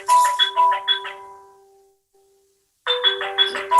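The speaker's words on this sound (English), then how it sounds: "There goes my phone again." A phone ringtone plays a repeated chiming electronic melody, a burst of tones, then a pause of near silence before the ringing resumes, clear and fairly loud with no talk over it.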